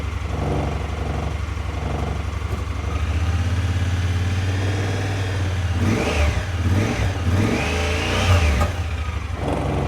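Engine of a cheap side-by-side UTV bought at auction sold as inoperable, idling steadily up close, then revving in a few rising bursts before settling back to a running rumble.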